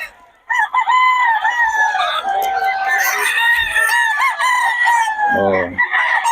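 A gamefowl rooster of WPC Early Bird bloodline crows loudly and close, its long harsh call running over several seconds amid clucking, with a voice briefly in the mix.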